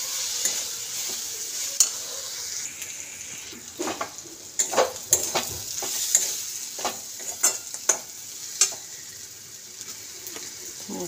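Ground chilli and coriander powder sizzle as they are stirred and fried in a pan for tadka dal, with a steady frying hiss and repeated sharp scrapes of a spoon against the pan.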